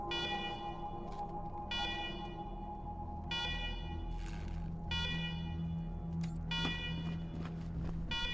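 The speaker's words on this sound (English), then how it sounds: "Alarm." A video game bunker's alarm siren blares in repeated electronic bursts, roughly one every second and a half, loud and insistent over a low, steady background hum.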